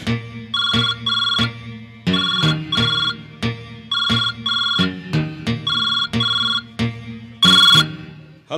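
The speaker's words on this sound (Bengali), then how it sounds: "তোর ফোন এসে গেছে। নে নে নে, ফোনটা ধর।" A mobile phone ringtone plays loudly and close, repeating its bright melodic phrase about a dozen times in quick bursts with short gaps, with no voices over it.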